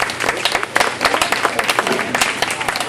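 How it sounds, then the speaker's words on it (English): A church congregation at Cowboy Crossing Church in Hugo, Oklahoma breaks into applause, dense clapping from many hands sustained for a few seconds, close and loud, with a few voices mixed in. "How about a big round of applause for Mike?"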